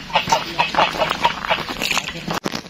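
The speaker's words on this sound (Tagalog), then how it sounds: "may mga alagang manok dito. May gansa." Geese and chickens on a mango farm in Bulacan clucking and honking in a busy mix of short, overlapping calls, fairly close, with faint background voices.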